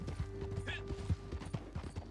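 Horse hooves clip-clop steadily in a video game, a quick rhythmic trot with a brief whinny, heard under a person talking.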